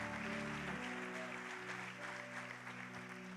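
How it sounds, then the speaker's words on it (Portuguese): A church congregation applauds softly and at a distance, the clapping a faint, even wash over sustained keyboard or organ tones playing underneath. "Dê para Ele um aplauso."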